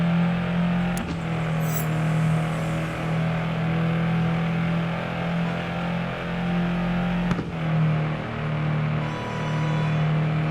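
BMW car engine in a video game at high speed, a steady loud droning hum holding nearly constant pitch with brief dips and a couple of sharp clicks, no talking.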